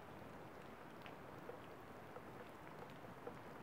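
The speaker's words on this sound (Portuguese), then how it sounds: "Só pra vocês verem, tá chovendo bastante." Heavy rain falling steadily in the Bahia backlands, a constant dense hiss with faint scattered drop impacts and no talking.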